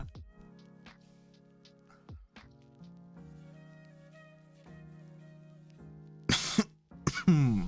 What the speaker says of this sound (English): lot of coughing today.